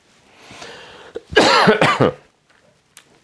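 A short burst of harsh, hacking coughs, three or four in quick succession, loud and close, then quiet.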